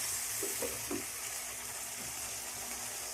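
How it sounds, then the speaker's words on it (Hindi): Chicken with yogurt and cumin fries in a pan, giving a steady close sizzle with a few soft stirring knocks near the start. "इसको मज़ीद हम 5 मिनट इसके अंदर भून लेंगे"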